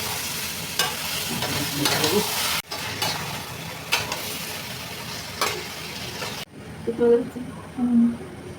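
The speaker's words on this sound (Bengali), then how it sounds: "সব কিছুকে খুব ভালো করে মিশিয়ে নেওয়া হলো ভালো করে সব কিছুকে মিশিয়ে দিতে হবে" Taro leaf curry being stirred and mixed with sugar and salt in a frying pan, a steady close sizzle with repeated scraping strokes of the spoon, a brief pause, then quieter scrapes.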